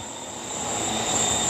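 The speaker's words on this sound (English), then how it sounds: "Stop, airplane." A fixed-wing airplane engine drones steadily, a broad roaring wash with a high whine on top that grows slightly louder over a second and a half, no voices.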